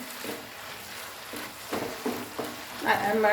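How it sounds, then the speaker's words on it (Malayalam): Millet upma with grated coconut is stirred in a hot pan, giving several soft scraping strokes over a low sizzle, the last stir brighter and louder, heard close up. "എന്നിട്ടൊന്ന് ഇളക്കി കൊടുക്കാം"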